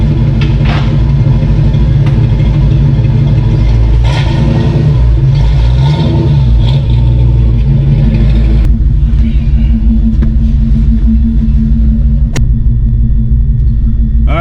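A Fox body car's engine rumbles loudly close by during a T5 transmission test, idling heavily and swelling through revs, with a steady low drone and occasional rattles and clicks throughout.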